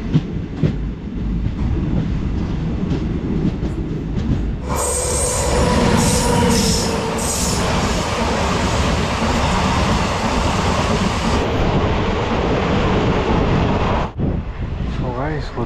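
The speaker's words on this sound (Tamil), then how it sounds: "ட்ரெயின் கிராஸிங்காக ஜஸ்ட் வந்து நின்றுருக்கு" The Karaikal to Chennai express train running on rails, a steady loud rumble with rhythmic clickety-clack and wind buffeting, heard close from on board for the full stretch.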